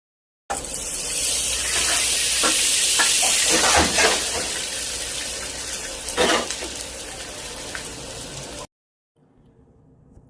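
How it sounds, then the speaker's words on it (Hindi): Garlic tempering (lehsun ka tadka) poured into a pan for sarson ka saag, giving a loud, steady hiss and sizzle for about eight seconds with a few spoon clinks, then cutting to near silence. "अब हम इसको लहसुन का तड़का लगाएंगे। मैं इसी पैन के अंदर इसको ये देखिए तड़का लगा रही हूँ।"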